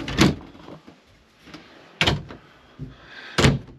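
The door of a Winnebago Sightseer 29R Class A motor home is worked several times, with three sharp thumps and latch clicks spaced across the clip and quieter rattles between them.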